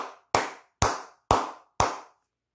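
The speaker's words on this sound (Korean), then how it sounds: "우리 모두 크게 기립박수 치고 가도록 하겠습니다." Four crisp, loud hand claps, evenly spaced about half a second apart, each ringing out briefly against silence with no voices.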